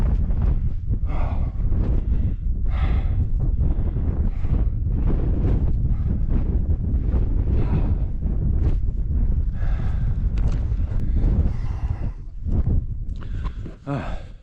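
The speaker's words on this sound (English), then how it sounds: "Okay, the wind is like really blowing up here." Strong gusting wind roars across open sand dunes, blowing sand against a hiker; the buffeting is loud and continuous, close to the microphone, with brief spoken exclamations mixed in.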